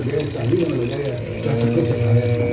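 Boiling water is poured into a cooking pot while making Egyptian fatteh with meat, a steady splashing pour heard close up with someone talking over it.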